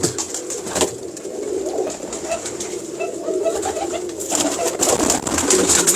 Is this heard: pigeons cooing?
yes